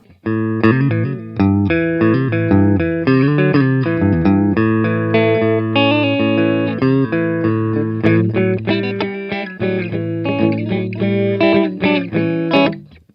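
A clean electric guitar rings out through a Marshall Valvestate 8080 amp on its clean channel, playing picked notes and chords with a touch of reverb, no voices.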